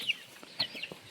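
Farmyard chickens clucking in short, soft bursts at a rural homestead, a few quick calls spread over a moment, fairly faint and close, with no talk over them.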